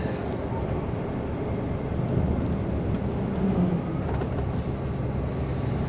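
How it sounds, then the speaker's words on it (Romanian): A double-decker passenger train runs past on a Romanian route, a steady broad rumble with rolling low-frequency roar lasting throughout, moderately loud and continuous, with faint background voices. "Ia, acolo în față e trenul, vedeți?"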